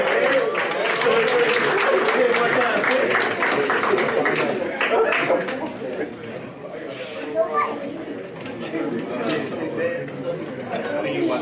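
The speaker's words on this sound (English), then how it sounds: "we make sure we give him a good round of applause" A hall of fame ceremony audience claps and cheers in a dense, steady roar that eases off partway through, with chatter and voices mixed in.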